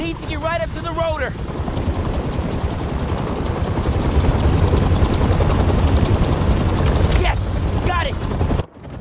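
Helicopter rotor blades in Marvel's Spider-Man 2, a loud, dense, continuous thumping whir that fills the scene, with brief synthetic pulsing tones at the start and near the end before it cuts off abruptly.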